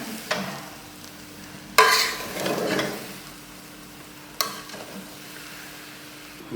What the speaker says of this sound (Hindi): मिक्स करते हैं अच्छी तरह हम